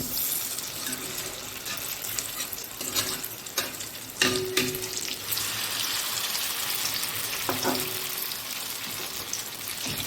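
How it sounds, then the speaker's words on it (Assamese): Continuous sizzle of onion and green banana fritters frying in a pan on medium flame, with occasional clinks and scraping as they are stirred. "মিডিয়াম ফ্লেমতে ভাজিছোঁ।"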